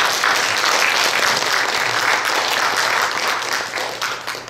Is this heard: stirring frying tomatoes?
no